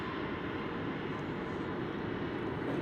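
A Japan Airlines Boeing 777 arriving from Tokyo Haneda at DFW Airport gives a steady, distant jet roar, a faint broadband rumble that holds even throughout.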